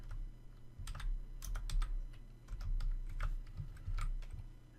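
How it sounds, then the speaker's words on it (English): Fingers type on a computer keyboard in quick, irregular bursts of soft clicks, fairly close and alone with no talking. "Since I couldn't see it, I'm going to type it in just one more time."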